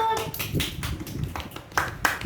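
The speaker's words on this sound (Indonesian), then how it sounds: "Tepuk tangan dulu." Students in an Islamic religious education classroom clap together after a classmate's presentation, scattered sharp hand claps mixed with children's voices and chatter over a short burst.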